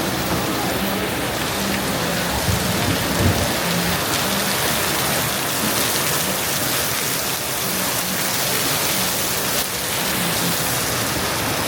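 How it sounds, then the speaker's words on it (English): Heavy rain pouring down in a dense, steady roar on a Panama street, drops drumming on surfaces nearby, constant throughout. "It is raining so hard."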